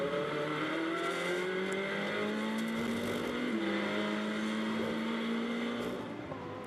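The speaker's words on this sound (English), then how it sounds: "There's a lot of noise coming from the car." A GT race car running on track at Hockenheim, with a steady, loud engine drone that rises in pitch on acceleration, slight tyre noise and continuous road roar, and no voices.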